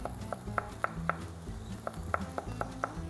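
A knife chops a carrot into cubes on a board, about ten sharp, evenly spaced cuts over a low kitchen rumble with no voices.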